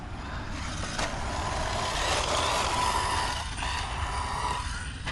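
A Team Associated RC10 4WD RC buggy with a 27-tooth pinion drives nearby, giving a steady whining mechanical drone with gear and motor whir that rises and falls slightly as it runs, with no talking.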